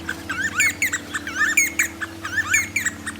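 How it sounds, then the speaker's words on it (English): A hadada ibis calling in the Kenyan savannah, a series of close, loud, harsh cackling calls in rhythmic bursts with short pauses, over a low steady background hum. "This wadidi in the Kenyan savannah."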